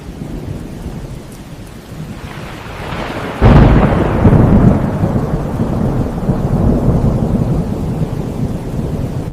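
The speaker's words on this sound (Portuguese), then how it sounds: "Chuva intensa na encosta." Heavy rain pouring steadily on a hillside during a thunderstorm, with a sudden sharp thunderclap that rolls off into a long rumble over the dense hiss of rain.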